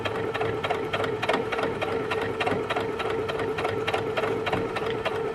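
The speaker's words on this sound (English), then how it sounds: "I'm just using that guide of the blind hem foot on the edge of the cuff as I'm sewing." A sewing machine with a blind hem foot stitches along a shirt cuff, running in a steady fast rhythmic chatter of needle strokes at an even pace throughout, close up and without talk.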